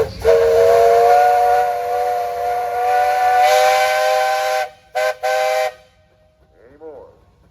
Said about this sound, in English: All right, guys, you got a whistle.